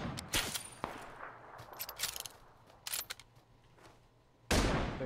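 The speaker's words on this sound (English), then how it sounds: "They're shooting back." Bursts of gunfire in PUBG, several sharp volleys in quick succession with gaps between them, ending in a loud sustained burst; nearby shots mixed with fainter distant ones.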